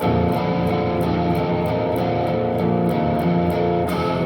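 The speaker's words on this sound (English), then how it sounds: "it's full distortion." Heavily distorted electric guitar chords strummed in a steady rhythm, loud and dense, with regular pick attacks and no voices.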